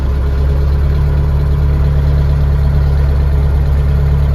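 Scout 404 mini tractor engine running steadily in a high gear, a loud continuous low drone with a strong hum and no change in pitch or level throughout, nothing else heard above it.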